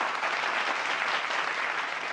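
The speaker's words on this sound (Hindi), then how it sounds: "जोरदार तालियों से एक बार फिर अभिनंदन करिए" Audience applause greeting spiritual guest Aniruddhacharya Ji Maharaj in a television interview studio, a steady, dense wash of clapping sustained without a break at moderate level.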